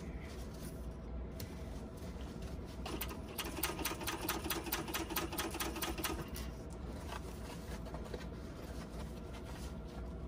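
A sewing machine back stitching a few stitches on a bucket bag seam before carrying on, a close, steady rapid run that picks up slightly in the middle and continues alone with no talking.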